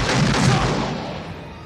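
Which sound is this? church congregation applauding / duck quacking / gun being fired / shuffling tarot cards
gun being fired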